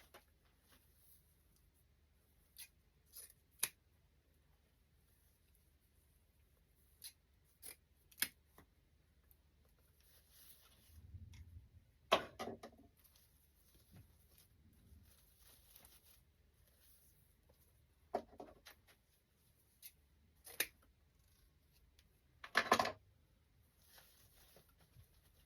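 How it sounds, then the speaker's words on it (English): Scissors snip ribbon tails on a fall scarecrow wreath, a handful of sparse, close, quiet cuts spread over a mostly silent stretch, with light rustling of ribbon between them. "let's trim our ribbon tails back a little bit."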